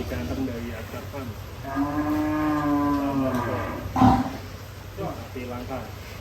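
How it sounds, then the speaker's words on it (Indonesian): Giant rare cattle at Akbar Farm low with long, drawn-out moos, close and fairly loud, as people talk around them. "Sapi langka."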